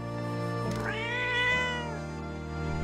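A cat meows in the video game Promise Mascot Agency, one drawn-out rising and falling meow heard clearly over a steady background music bed.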